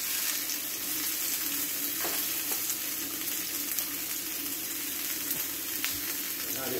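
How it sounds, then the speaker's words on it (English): Pork chops sizzle steadily in a hot pan, with a constant dense crackle of frying and no pauses, plus a few faint clinks, loud and close. "To this, I'm going to add the pork chops that I have. And here it starts to sizzle."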